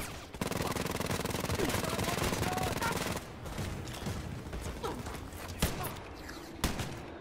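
Gunfire in the video game Wolfenstein: Youngblood, a dense continuous burst of automatic fire for several seconds followed by scattered louder single shots and thuds, with a voice speaking over it.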